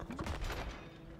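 Rapid bursts of booming cannon fire in the video game It Takes Two, dense and continuous in quick succession, with no voices over them.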